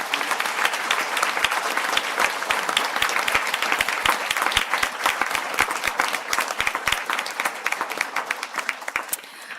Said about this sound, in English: stand for a well-deserved round of applause